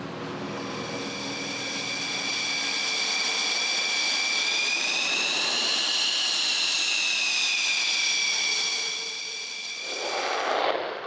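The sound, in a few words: Rafale fighter jet engine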